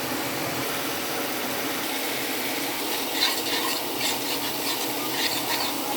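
Ground spices fry with chopped onion, garlic and ginger in hot oil in a pan, giving a steady, close sizzling hiss with soft scraping and rubbing from stirring throughout.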